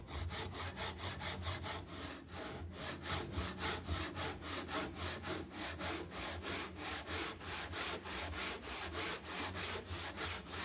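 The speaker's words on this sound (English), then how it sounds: "Use the tenon saw, and the aim is that I'll cut just outside the line." A tenon saw cuts along the grain of a clamped wooden stool leg in a steady, rhythmic back-and-forth rasp. The strokes are close and even, with no talking.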